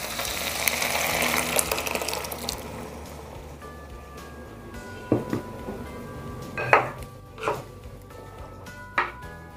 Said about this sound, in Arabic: وبعد كده هننزل بعصير الطماطم اهو